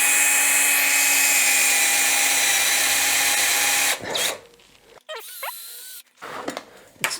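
A steady high-pitched whine from a small power drill with a small bit runs for several seconds, then cuts off into short bursts and scraping handling noises.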